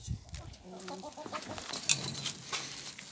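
Several chickens cluck and murmur close by in a busy farmyard, with overlapping soft calls and rustling.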